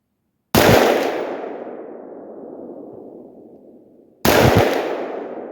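Two sharp, loud gunshots from a Sig MCX rifle, each with a long decaying echo, spaced about four seconds apart.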